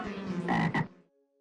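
A single loud, close frog croak with a raspy, throaty tone, ending in a brief fading trill.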